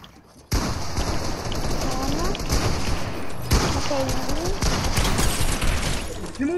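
Dense gunfire in the Fortnite video game, a sustained fusillade of rapid shots and thuds that begins abruptly and stays loud throughout, with a voice faintly under it.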